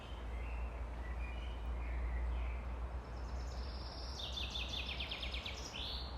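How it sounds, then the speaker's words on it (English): Birds sing in a green forest in a nature reserve, with faint, high chirping phrases rising in the second half over a quiet, steady outdoor hush. "You guys hear the birds?"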